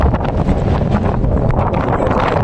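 Strong wind gusting steadily at a village river in Gujarat, roaring and buffeting the microphone with continuous low rumble throughout, loud and close with no voices.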